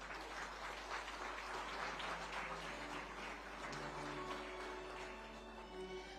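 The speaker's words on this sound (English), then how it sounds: "A huge round of applause" Audience applause at the Indian Family Business Awards 2022 for a Muthoot Group award winner, continuous clapping from a large hall heard at a low, distant level over a steady hum, with faint tonal music beneath.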